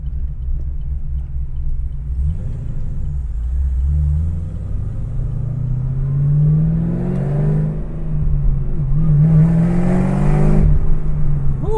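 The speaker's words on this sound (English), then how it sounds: "This motor sounds wonderful." A Camaro ZL1 engine making 690 rear-wheel horsepower rumbles low and steady, then revs repeatedly, pitch climbing and falling with each push, loud and close with no talking.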